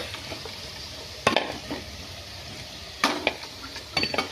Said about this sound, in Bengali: এবার আলুগুলো তুলে নেব।